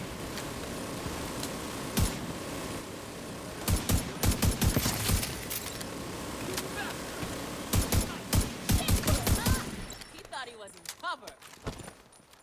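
Gunfire from an M1 rifle in The Division 2, loud sharp shots in irregular bursts around two, four and eight to nine seconds, with voices talking over the action between them.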